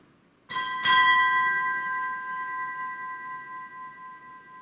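Two strikes of a ship's bell at a Navy retirement ceremony, rung as a quick pair with the second stroke close behind the first, then a long clear metallic ring fading slowly.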